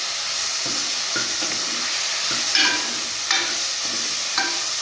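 Tomatoes sautéing with rock salt in a pan give a loud, continuous sizzle, with a spoon scraping and stirring in regular strokes, close up.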